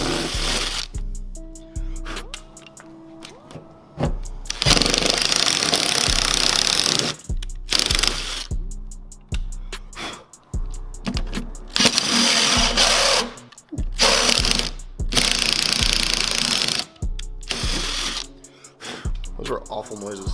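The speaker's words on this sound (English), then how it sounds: "I'm gonna drill some of these out" A drill works out rivnuts on a Nissan 350z deck lid for a GT wing, whining and chattering in repeated loud bursts with stuttering grinding between them.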